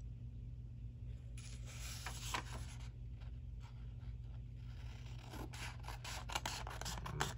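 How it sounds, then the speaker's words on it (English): Scissors cutting through a thin gold sheet while decorating a paper planner, a close, quiet series of soft snips and scratchy rubbing strokes, no voices. "I'm just going to go ahead and cut this with my scissors"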